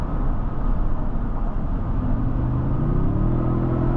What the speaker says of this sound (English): it has a really interesting sound to it with the hybrid and the synthesized noise